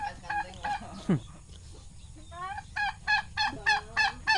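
A turkey calls in a series of short, honking, gobble-like bursts, one quick cluster and then a steady run of evenly spaced calls near the end. The calls are fairly close, with faint background voices.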